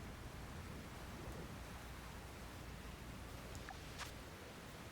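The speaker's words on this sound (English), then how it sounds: "it's raining here." Rain in the Pokémon Violet video game falls as a soft, steady hiss of game-audio rainfall, faint and continuous, with no talking over it.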